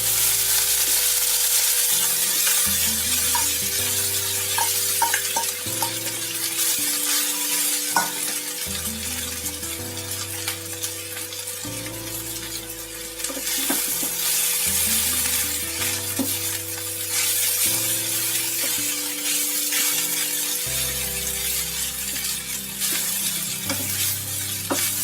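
Ginger and asafoetida fry in hot oil with a steady, continuous sizzle that stays even throughout, with a low tonal melody running underneath.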